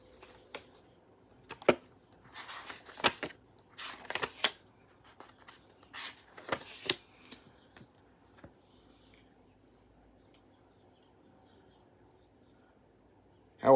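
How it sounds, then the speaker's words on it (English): A red spiral-bound notebook is handled and its pages flipped, giving a scatter of quiet, close papery rustles and snaps in irregular bursts, then a long still pause before one last sharp handling sound. "So if you're wondering what this notebook sounds like, it sounds like this."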